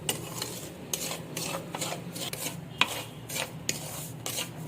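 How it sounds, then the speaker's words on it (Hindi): A spoon stirs semolina roasting in a pan for halwa, giving rhythmic scraping strokes about every half second, close and moderately quiet, with a light sizzle underneath. "5-6 मिनट हो गए मुझे सूजी को भूनते हुए। अभी 2-3 मिनट और मैं इसको भूनूंगी।"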